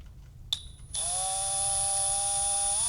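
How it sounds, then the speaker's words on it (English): A small drill bores a hole through a plasma cutter handle after a faint click, then a steady high-pitched whine runs on without a break, close and clear. "I'm going to try to drill a hole through the handle over here."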